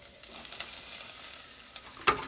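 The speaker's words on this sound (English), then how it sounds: "I just stuck a little olive oil in my pot, and I am going to saute some garlic" Garlic sautés in a little olive oil in a pot, giving a quiet, even sizzle with light stirring, then one sharp clink of a utensil near the end.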